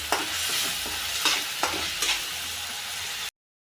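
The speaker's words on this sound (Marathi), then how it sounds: "चांगल्या प्रकारे छान मौसूद फ्राय होऊ द्यायचा आहे टमाटा कांदा" Tomato and onion sizzle in a hot pan as a Marathi home cook makes a hotel-style shev bhaji masala, with a steady frying hiss broken by several scraping stirs of a spoon, and no voices.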